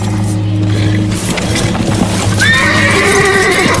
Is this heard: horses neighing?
yes